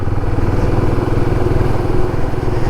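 A Royal Enfield Himalayan 450 motorcycle runs on the road while overtaking, its engine a continuous loud, low rumble with steady throbbing and no pauses.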